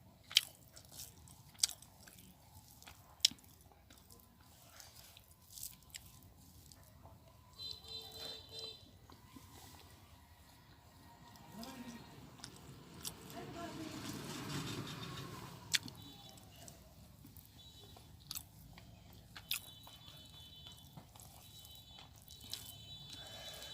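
Someone eats duck egg bhuna at home in a village, with close, wet chewing and occasional crunchy bites and clicks scattered across the stretch, fairly quiet overall.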